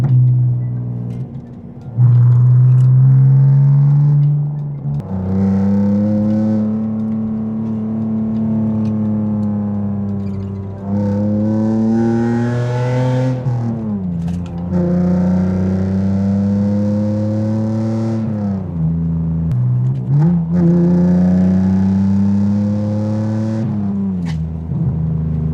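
A BMW E46 drives hard on country backroads, its exhaust droning loud and steady through long pulls, rising in pitch under acceleration, dropping on shifts and lifts, then climbing again, with no talk.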